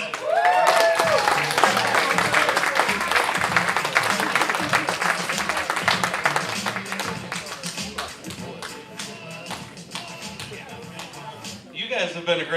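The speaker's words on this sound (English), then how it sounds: "Let's give it up for Bryan Collins!" A comedy club audience claps and applauds for comedian Bryan Collins as he is introduced, a dense wave of clapping that slowly thins out before a last burst.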